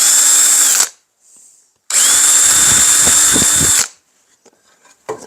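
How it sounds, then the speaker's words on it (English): A power drill enlarges holes in plastic in two loud, close bursts: a short whir, a pause, then a longer high-pitched spin that ends abruptly, with faint handling noises afterward. "Enlarge the holes in the plastic just a little bit."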